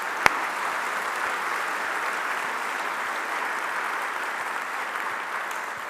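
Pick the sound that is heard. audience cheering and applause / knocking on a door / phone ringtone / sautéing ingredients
audience cheering and applause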